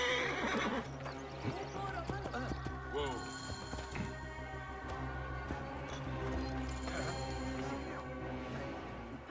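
A horse whinnies loudly over clopping hooves and a busy background of ambient sounds in Assassin's Creed Origins, with a voice speaking briefly.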